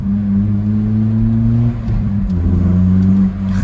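A Honda Civic Type R fitted with a replica Spoon exhaust that is already blowing revs loudly and close. A steady, droning engine note dips and rises once in pitch, with no talking.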